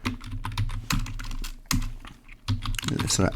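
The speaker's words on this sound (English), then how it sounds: "Let's type in the full command, configure terminal" Computer keyboard keys clatter in quick irregular bursts with short pauses while a router configuration command is entered at a terminal, close and crisp, with a faint voice now and then.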